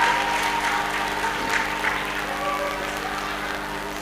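Applause from an audience at a sports festival panel session fills the whole stretch, a steady wash of clapping that tapers slightly toward the end, with a murmur of voices beneath.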